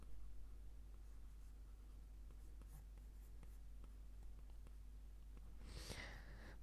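A pen drawing on a tablet or paper makes quiet, scratchy strokes and faint taps over a steady low hum, ending in a brief louder rustle.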